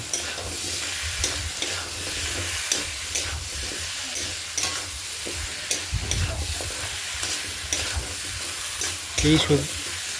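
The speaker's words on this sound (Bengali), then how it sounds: "দিয়ে ভালো করে মশলাটার মধ্যে কষিয়ে নেব" Cut potatoes sautéed in spice paste in a pan, a loud continuous sizzle with repeated scraping and stirring strokes, close by, a clatter near the end and no speech.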